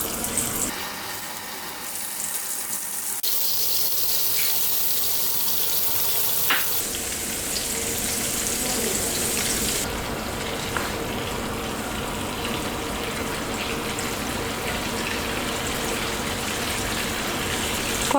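Prawns frying in hot coconut oil in a pan for a Kerala prawn pickle, a loud continuous sizzle that rises sharply as they go in and keeps crackling steadily with no voices.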